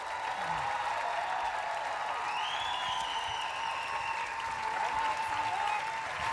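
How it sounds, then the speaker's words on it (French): Studio audience applause for guests on a French-language TV game show, a dense, constant clapping wash with faint cheers and whoops rising over it, loud and steady. "On applaudit nos invités."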